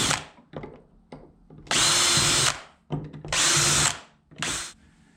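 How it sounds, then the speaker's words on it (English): Power drill boring holes into a Bonafide 127 kayak for a Yakattack MightyMount install, three loud sustained whirring bursts separated by short pauses and softer handling clicks. "Now that all the holes are drilled,"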